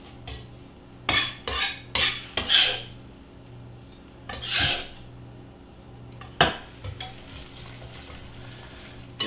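Wild greens are whisked into beaten eggs in a pan, with a series of quick raspy scrapes and metallic clinks in short bursts and pauses between them, close up and with no talking.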